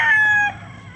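A rooster gives the loud, near end of a crow, a strained held call that cuts off about halfway through and leaves faint background behind it.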